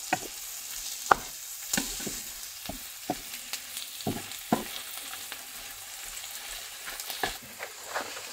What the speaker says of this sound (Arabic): هلا نخلط الدجاج مع البصل